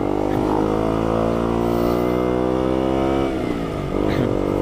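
A KTM 125 motorcycle rides along in winter, its engine note loud and steady with rising and falling revs, heard close up from the rider's position.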